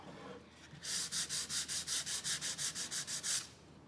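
Sanding block rubbed by hand across a wooden farmhouse sign to distress it, about fourteen quick even strokes in a steady rhythm, close and crisp, with no talk.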